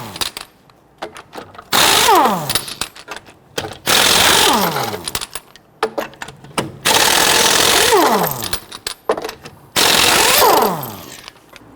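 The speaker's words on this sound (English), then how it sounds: "loosen and remove the lug nuts." Four loud bursts of an impact wrench spinning 22mm lug nuts off a Honda Ridgeline wheel, each with a rising then falling whine, separated by short quiet gaps and clicks.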